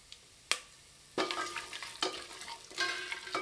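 Spices and cashews crackle and sizzle in hot fat, with sharp pops and bursts of frying noise, loud and close, no voices.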